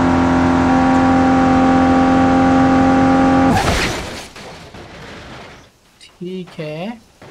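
An Audi Q7 in a driving game roars loud and steady at high revs, then slams into a concrete wall with a broad crunching impact that fades out, followed by brief scraping and sliding sounds.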